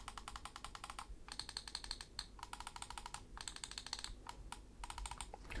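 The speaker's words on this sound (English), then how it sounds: "Now the buttons themselves, I think they sound absolutely excellent, and they're very nice and crisp and responsive" Buttons on an MSI Versa 300 Elite wireless gaming mouse with Omron switches, clicked in rapid crisp bursts with short pauses between runs, close and quiet with no talking.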